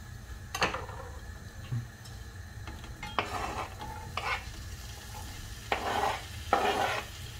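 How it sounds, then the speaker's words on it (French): Onions sautéing in olive oil over medium heat in a home kitchen while a savoury tart is prepared, with a soft steady sizzle under several short bursts of stirring and utensil scraping against the pan. "je vais revenir mes oignons à feu moyen"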